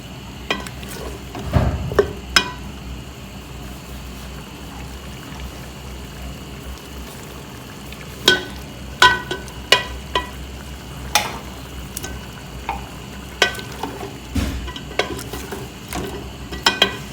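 Goat trotters fry with onions in a pot under a low, continuous sizzle. Scattered sharp scrapes and knocks of a stirring spoon grow more frequent in the second half.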